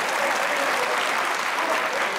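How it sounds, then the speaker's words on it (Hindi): Applause from a crowd gathered for a talk on Pakistan's finances, a thick, even roar of clapping from many people that stays at the same loudness throughout. "यार बजा दे तालियां यार।"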